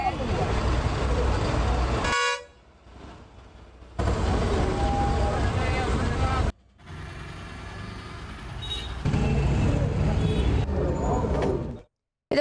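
Loud, sustained bus air horns blare in long blasts separated by short gaps, with traffic noise filling the pauses, in Krishnagiri, India.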